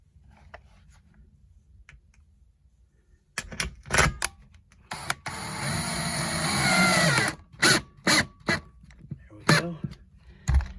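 Power drill driving drywall screws into a sliding closet door track, a few short whirring bursts of close, loud drilling with one longer sustained run in the middle, separated by quiet gaps.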